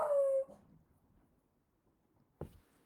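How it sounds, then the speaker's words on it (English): Puppy gives one loud, drawn-out howling yelp at the start, then near silence before a single short bark near the end. "Let's listen to see if Moriarty barks as well"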